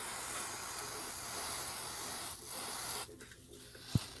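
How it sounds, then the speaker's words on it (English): Aerosol spray hisses in a short steady burst onto an iPhone XS Max logic board with a short circuit, the hiss cutting out near the end and followed by a faint click. "let's try to spray to see where it's going to"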